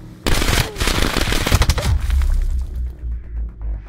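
Gunfire in the video game Call of Duty: Black Ops 4, a sudden loud, rapid automatic burst with crashing debris, fading into a rumbling tail after about two seconds.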